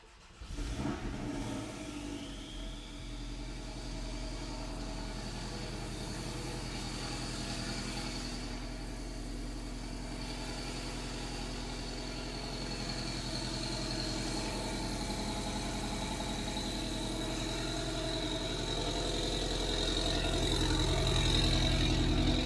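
A Porsche 718 Cayman S engine with downpipe and blow-off valve cranks and catches, then settles into a steady, throaty idle that keeps running, growing slightly louder toward the end.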